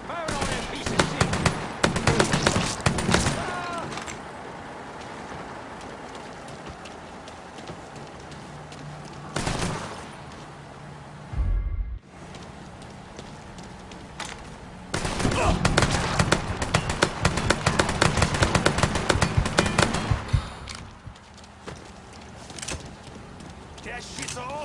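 Sustained bursts of automatic gunfire from a shootout in the video game Mafia 3, loud and dense in two long volleys with a brief lull between, with voices talking over the shooting.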